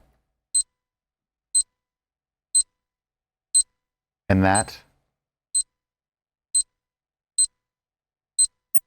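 A bomb's countdown timer in a tabletop game session gives short, regular electronic ticks about once a second, with a brief burst of speech cutting in midway.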